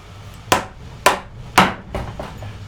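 A chisel is struck into wood three times while a mortise is chopped for a joint stool. The mallet blows land as sharp, evenly spaced thwacks, close and loud, followed by a few softer taps.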